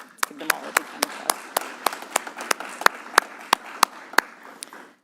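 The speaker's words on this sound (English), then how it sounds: "Let's give them all a big hand of" Audience applause at an event announcing an energy deal for economic reconciliation with an Indigenous consortium: steady crowd clapping with sharp individual claps standing out, sustained for several seconds and fading at the end.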